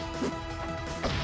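Down smash attacks land in a fighting video game, two sharp, loud hit impacts about a second apart over steady game background sound.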